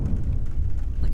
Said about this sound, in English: with the occasional rumble of thunder crossing overhead